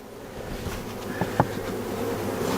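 Honey bees gather on a hive lid and shim, a steady low buzzing close by with a few sharper passes as single bees fly near, and no voices.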